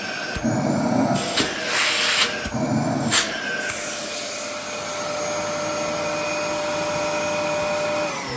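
A new-old-stock Dyson DC07i upright vacuum cleaner switches on with a couple of clunks, then runs with a steady, loud whine and airy rush up close.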